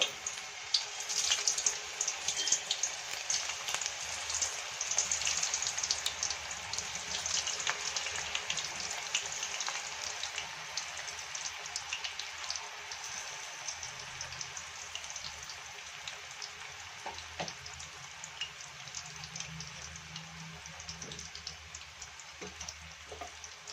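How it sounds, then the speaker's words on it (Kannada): Raw banana slices, grated directly into hot oil for homemade chips, fry with a continuous faint crackling sizzle that holds steady with small pops throughout. "ಎಣ್ಣೆ ಕೂಡ ಬಿಸಿಯಾಗಿದೆ ಇವಾಗ ಹಾಕ್ಕೊಳ್ಳೋಣ ಡೈರೆಕ್ಟ್ ನೀವು ಎಣ್ಣೆಲೇ ತುರ್ಕೋಬಹುದು"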